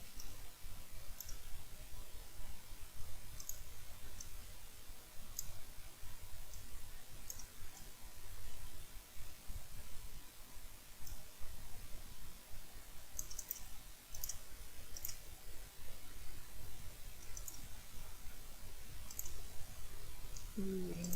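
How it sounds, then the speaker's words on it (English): A computer mouse clicks repeatedly in quick, irregular bursts, faint and close, with a low background hum and no talking. "So much clicking."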